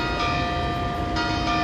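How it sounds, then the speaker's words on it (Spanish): A church bell rings near the Cibeles Fountain, a steady sustained tone with lingering hum, fairly loud against a busy city background with no talk. "mientras suena la campana de, no sé si es la iglesia de acá"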